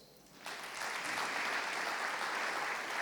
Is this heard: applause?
yes